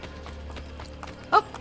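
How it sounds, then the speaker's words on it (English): Quick, light horse hoofbeats in a video game, Assassin's Creed: Brotherhood, patter in a steady clip-clop rhythm, fairly soft, with one brief louder knock near the end. "Oh, I hear a horse."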